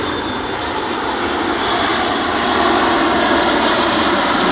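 A Boeing 737 MAX 9 jet in Continental livery roars past at Dulles airport, a loud, steady broadband engine rush that swells slightly as it nears.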